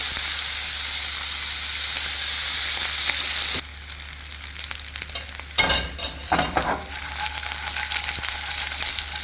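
Corn pork frying in a pan until crispy for Jamaican corn pork and ackee, a steady loud sizzle with crackling bursts and stirring scrapes midway, close up and alone.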